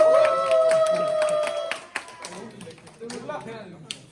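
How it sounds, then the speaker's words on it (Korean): A church youth service audience claps, a brief ragged round of hand claps fading into scattered taps, with a voice talking over it and a tone at the start. "여러분 박수해서 한번 박수"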